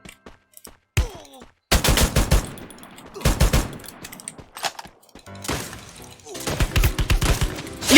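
AW rifle gunfire in a shooter game rings out as loud, sharp bursts separated by short pauses, with rapid shot clusters and glassy crackling tails and a little game noise between them.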